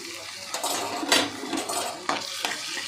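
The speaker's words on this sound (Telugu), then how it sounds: "అల్లం వెల్లుల్లి పేస్ట్ కొంచెం పచ్చివాసన పోయేంత వరకు ఇలా యాగనివ్వాలన్నమాట" Ginger garlic paste frying with turmeric in a pan for a chicken curry, giving a steady sizzle broken by several clinks and scrapes of a spoon against the pan.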